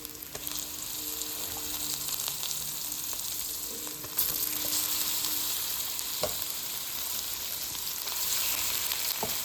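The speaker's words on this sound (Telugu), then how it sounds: "దీంట్లో ఇప్పుడు మనం క్లీన్ చేసి పెట్టుకున్న చికెన్ పీసెస్ని యాడ్ చేసేసుకుందాం" Chicken pieces hitting hot oil with onion and ginger-garlic paste give a steady, close sizzle that lasts throughout, with a few sharp clicks of stirring and a slight jump in intensity partway through.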